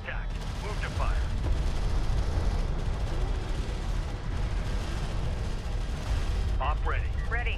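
Gunfire strikes an armored vehicle in the video game Deserts of Kharak, heard as a dense, steady rattle of shots and mechanical clatter under radio-style voices that chatter briefly at the start and near the end.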